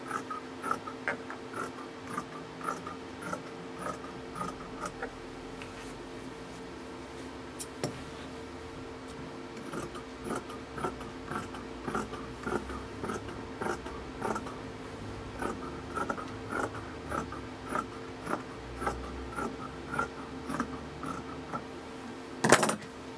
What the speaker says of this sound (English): This is just a straight piece of fabric that we're going to cut. Trim away the uneven bottom edge.